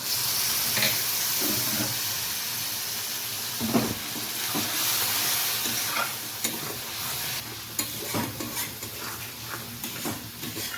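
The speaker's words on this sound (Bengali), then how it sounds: "সামান্য একটু জল দিয়ে দিই, কড়াইতে লেগে যাচ্ছে মশলাটা" Water splashes into masala frying in a kadai for prawn do-peyaja, setting off a steady close sizzle broken by repeated stirring scrapes and clatters against the pan; no one speaks.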